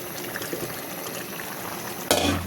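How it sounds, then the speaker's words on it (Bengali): Boiled jackfruit drops into a pan of sautéed potato and lentils; a low bubbling simmer runs throughout, then a sudden louder sizzling burst near the end as the pieces hit the hot mix. "এখন আমি এই সেদ্ধ করা কাঁঠালগুলো দিয়ে দেবো এর মধ্যে"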